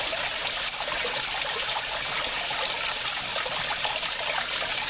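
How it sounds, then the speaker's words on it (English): Water trickles steadily into an aquaponics fish tank with a cyclone aeration setup, a continuous even splashing wash that holds at the same level from start to end with no voices. "all you hear in here is the sound of the trickling water"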